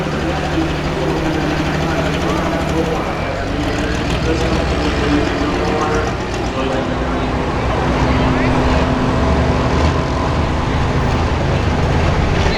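Pro stock pulling tractor from the 8,500 lb class at a Mound City, Missouri pull, its engine roaring loudly and steadily throughout with no break.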